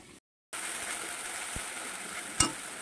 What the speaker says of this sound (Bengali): আর ওপাশে আলু ভাজা হচ্ছে